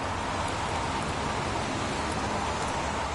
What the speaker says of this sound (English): Goddamn rain. Hasn't stopped pouring since I arrived.